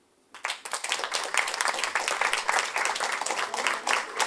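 A comedy-show audience in a hall breaks into applause after near silence, a dense, sustained burst of many hands clapping that stays loud throughout.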